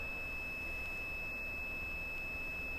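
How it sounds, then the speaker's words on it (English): A continuity tester's buzzer, connected across the legs of an AC motor's switch, gives one faint, steady, unbroken tone throughout. "The buzzer sound,"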